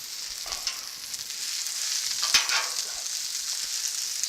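Vegetables and brisket stir-frying on a Blackstone griddle, with broccoli, peas and cabbage in the mix, hiss and sizzle steadily up close, broken by a few sharp scrapes and clicks of a spatula.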